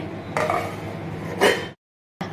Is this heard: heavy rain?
no